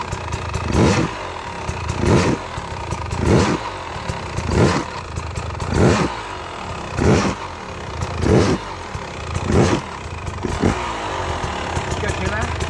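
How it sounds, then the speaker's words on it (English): A dirt bike engine on a hard enduro track is revved in the double-blip technique. It makes about ten evenly spaced, consistent rev bursts, each rising and dropping back, and the bike sounds close and loud. "Listen to the bike here."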